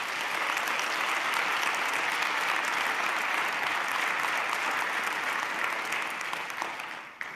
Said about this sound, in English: I love that you applauded at that point.